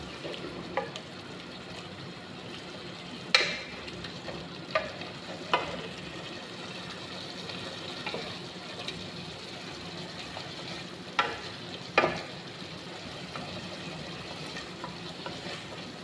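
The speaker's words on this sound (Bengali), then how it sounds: "মশলাগুলো ভালো করে কষিয়ে এরপরে মাংসটা দিয়ে দিব" Tomato, ginger-garlic paste and spices fry in a pan with a soft continuous sizzle, broken by occasional sharp clinks and scrapes of a spoon stirring against the metal, no voices.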